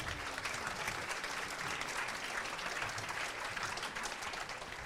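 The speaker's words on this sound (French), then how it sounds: "Vous pouvez les applaudir." Audience applause at a tech school startup presentation event, steady dense clapping from a crowd throughout, fairly even and moderately loud, with no talk over it.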